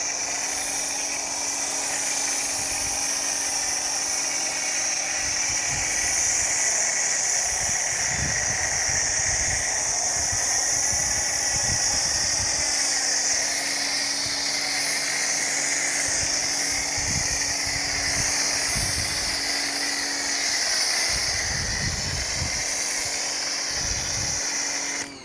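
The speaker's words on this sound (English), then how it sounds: "let's foam this on for the first time" A foam gun sprays a steady hissing stream of foam onto a Mini Cooper, continuous and close throughout with small fluctuations and no talking.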